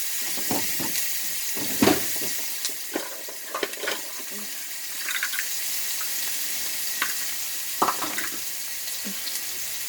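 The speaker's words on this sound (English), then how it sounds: "So give that a minute to saute." Minced garlic sautés in a pan for a cheesy enchilada soup, giving a steady soft sizzle broken by scattered clicks and scrapes of stirring, with no voices.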